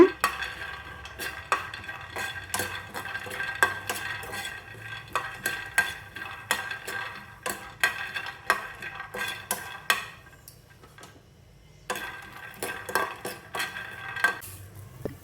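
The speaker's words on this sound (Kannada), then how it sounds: "ಶೇಂಗಾ ಬೀಜ ಗೋಡಂಬಿ ಹಾಕ್ಕೊಂಡು ಹುರ್ಕೊಳ್ತೀನಿ" Peanuts and cashews roast in a pan as a utensil stirs them, making repeated scraping clinks in an uneven rhythm with a soft sizzle underneath. A short quiet gap comes before the stirring resumes.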